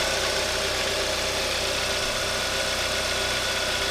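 Steady idle of a cold-started 2.4-liter GDI engine in a Kia Optima, an even, slightly loud drone with a light mechanical ticking and no one speaking.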